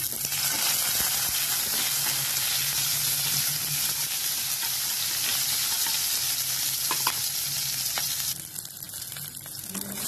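Cumin and chili spices frying in hot ghee in a home kitchen in India, a dense continuous sizzle and crackle with occasional stirring scrapes, steady and close throughout.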